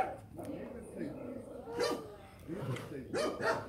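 Several dogs bark and yip in short bursts near a tiger enclosure, fairly close, with a few whimpering sounds between the barks.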